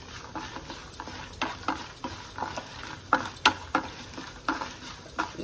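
Spices for banana flower curry crackle and spatter in hot oil, with sharp clicks from a spoon stirring the pan in an irregular rhythm.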